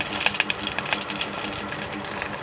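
Green chilies dropped into hot oil that already holds mustard seeds, while cooking keerai poriyal, give a steady crackling sizzle with scattered sharp pops, fairly close and without voices.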